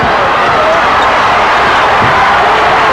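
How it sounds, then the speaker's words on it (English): A roaring basketball arena crowd at a 1993 NBA playoff conference finals game, loud and continuous, a dense wall of cheering and shouting that fills the whole stretch without letup. "that's why the crowd is going crazy, because he didn't"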